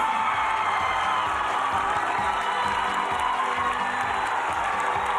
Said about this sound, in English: And the crowd go wild.